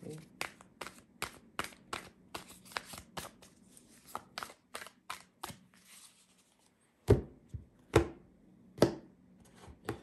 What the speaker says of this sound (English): it's not that easy to shuffle